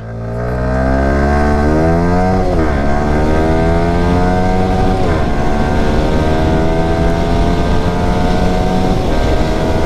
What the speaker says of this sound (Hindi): ओके, 200 मीटर बाइक चली है वहां से लेके यहां तक